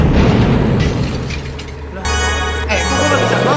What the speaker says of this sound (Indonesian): Meledak lagi dong.